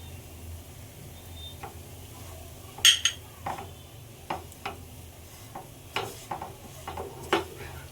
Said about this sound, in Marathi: शेंगदाणे, लसूण जे आपण मिरची वाटलेलं आहे ते सुद्धा। हे आपण चांगलं परतून घेऊया